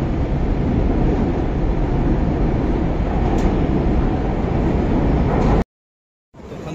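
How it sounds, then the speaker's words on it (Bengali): A Chicago Green Line train pulls into the station with a loud, steady rumble and wheel roar that holds for several seconds, then cuts off abruptly before resuming. "যে আসছে ট্রেনটা, এটাই গ্রিন লাইন আমার ট্রেন"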